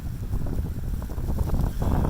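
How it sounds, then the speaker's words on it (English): Strong wind blowing during a snowstorm in Lincoln, Nebraska, a steady, loud, rumbling roar buffeting the microphone without pause for the whole stretch, with no talking. "This wind is going to cause more problems than anything."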